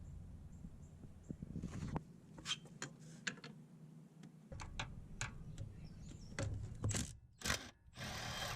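Bolts on the plastic inner axle cover of a Toyota RAV4 are undone with a power tool, giving several short, separate bursts with clicks and clatter between them. No talk is heard, and the bursts sound close.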